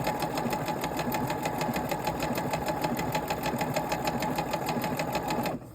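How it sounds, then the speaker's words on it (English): A sewing machine stitches two fabric pieces of a headband together, a fast steady mechanical whirring with rapid even needle clatter, close and loud, stopping abruptly at the end. "Just sewing these two together."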